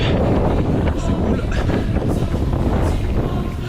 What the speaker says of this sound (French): Toujours ce vent